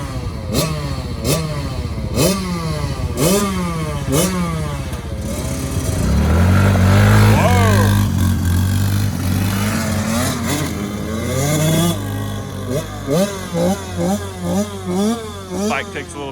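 A two-stroke dirt bike engine idles and revs while warming up outdoors, rising to a loud sustained roar in the middle before dropping back to a choppy idle, close by with people talking now and then.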